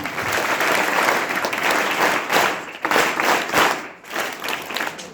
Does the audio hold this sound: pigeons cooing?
no